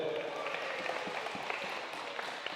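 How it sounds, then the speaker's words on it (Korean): Congregation in a church clapping together after students read aloud, steady dense applause sustained throughout at moderate distance, no talk over it. "우리 박수 한번 주십시오."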